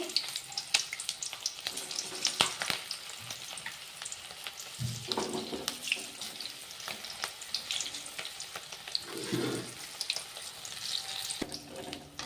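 Masala bajji bonda frying in plenty of hot oil, a steady crackling sizzle running throughout with scattered sharper pops and a few low bubbling surges, close and alone without talk.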